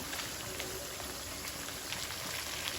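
A fish head sautéing in a pan gives off a steady, close hiss and crackle of sizzling oil that runs unbroken throughout, with no voices.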